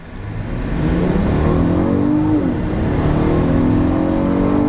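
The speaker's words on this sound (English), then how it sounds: "a lot easier to control the vehicle when doing a launch like that" 2018 Volkswagen Atlas SUV launching hard from a standstill, its engine roaring loud and close with the pitch climbing steadily through a gear, then carrying on at a sustained drone.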